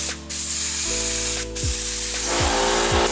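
Spray paint coat going onto a repaired cracked car bumper: close, steady hissing bursts with a couple of brief pauses and faint clicks of the spray trigger between passes.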